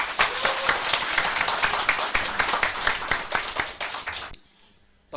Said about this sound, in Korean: 다시 한번 합격하신 모든 분들께 축하의 박수를 드립니다.